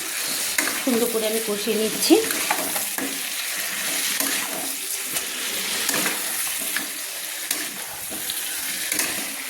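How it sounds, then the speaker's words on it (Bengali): Four chicken leg pieces sizzling in masala in a pan for Kolkata-style chicken biryani, a dense continuous frying hiss with repeated scraping and stirring noises, no voice heard. "তো 4টা লেগ পিস আমি দিয়ে দিলাম, দিয়ে আমি দেখুন মশলার সঙ্গে সুন্দর করে আমি কষিয়ে নিচ্ছি,"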